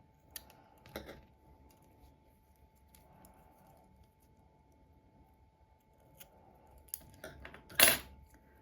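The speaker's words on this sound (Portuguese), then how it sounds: "E aqui eu posso também cortar essa pontinha que sobrou." Scissors snip off the leftover yarn end of a crocheted phone bag strap, a few soft, close clicks and a sharper cut near the end, in an otherwise quiet room.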